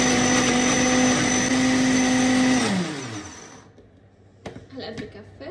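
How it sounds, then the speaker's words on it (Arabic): An electric blender whirs loudly and steadily for almost three seconds as garlic sauce ingredients with salt, vinegar and lemon are mixed, then winds down to a stop, followed by light kitchen clatter and a voice speaking. "رح اخفق المكونات بس خفقة خفيفة هيك، يعني نخلطه مع بعض"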